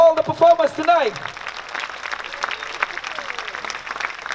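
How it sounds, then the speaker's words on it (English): A crowd at a Malay cultural festival performance breaks into sustained applause, dense clapping that continues steadily after a voice speaks over the start. "Can we give another round of applause for all the performers tonight?"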